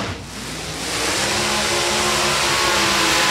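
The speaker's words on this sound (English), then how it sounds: "Now we're getting some burnouts." Hot rod engines roaring during burnouts at a hot rod reunion drag event, a loud, dense, sustained rumble that builds in the first second and then holds steady.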